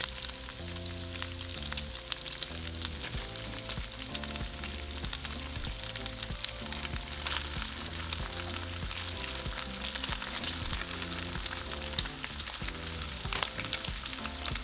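Ground beef added to already-cooked bacon and pork sizzles steadily in a stovetop discada pan, a dense, continuous frying crackle with faint scattered utensil taps.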